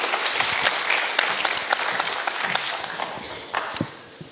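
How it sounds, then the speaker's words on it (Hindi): Loud, dense applause from a poetry-recital audience at an IIT Kharagpur event as a performer is welcomed to the stage, sustained clapping that gradually thins out with a few footsteps near the end. "आपकी ज़ोरदार तालियों के बीच"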